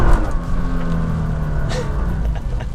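A Nissan GT-R accelerating in a straight line on a wet road with traction control off, its engine a loud, steady low rumble with a rising tone, heard alone and close.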